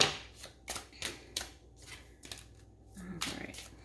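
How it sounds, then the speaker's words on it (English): Tarot cards are shuffled in several quick riffling bursts with short pauses between, close and fairly quiet, without speech. "Quick little shuffle."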